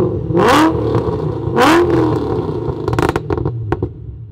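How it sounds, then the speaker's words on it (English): A 2020 Ford Shelby GT500 engine revs hard twice, each rev followed by sharp pops and crackles from the exhaust on lift-off, loud and close, ending in a scatter of crackling bursts. "You can hear the pops and the crackles every single time I rev and I let off."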